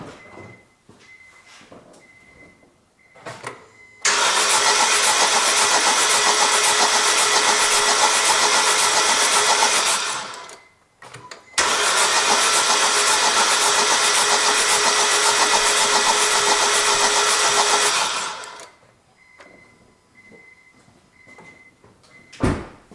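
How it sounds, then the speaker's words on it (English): A car engine with a weak ignition coil cranks and starts, then runs loud and steady, stops briefly, restarts and runs again before cutting off, with faint clicking before and after. "And now I go to start my engine."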